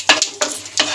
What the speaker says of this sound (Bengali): ফ্রেন্ডস গরম তেলের মধ্যে দুটো এলাচ, শুকনো লঙ্কা আর সাদা জিরে দিয়ে দিলাম।